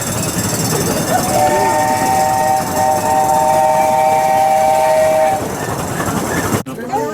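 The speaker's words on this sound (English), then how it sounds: "And this train passes behind us." A train at the San Francisco Zoo rumbles past behind visitors, its whistle sounding a sustained tone for several seconds over the steady rolling noise, with the murmur of people nearby.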